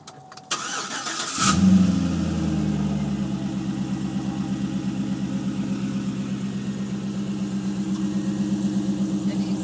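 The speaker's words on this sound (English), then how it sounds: "It is the V8 engine." A V8 car engine cranks briefly, catches with a loud rev, then settles into a steady, rumbling idle with a faint rhythmic lope, heard close and alone.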